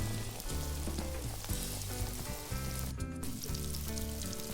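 Quail pieces deep frying in a pan of hot oil, a steady loud sizzle with crackling throughout, under a tonal background that dips briefly near the end.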